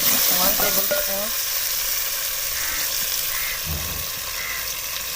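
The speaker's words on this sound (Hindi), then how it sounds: "लहसुन को हम इतना भूनेंगे ताकि इसका कच्चापन ख़त्म हो जाए।" Garlic and spices, including red chili powder, turmeric and salt, sizzle steadily in a hot pan, a bright continuous frying hiss with brief stirring sounds and a short voice early on.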